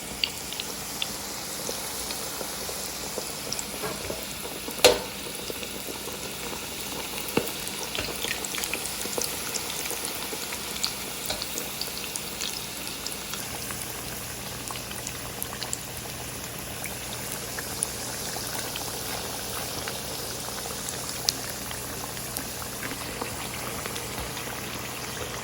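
Samosas frying in hot oil give a continuous bubbling sizzle with faint crackles and pops, steady and close throughout, with no speech.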